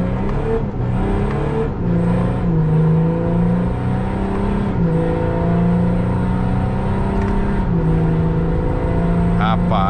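A Volkswagen Amarok V6 stage 2 pickup pulls hard on a test track, loud engine rising in pitch through several gear steps, with a short shift dip between each climb, heard close from inside the cab.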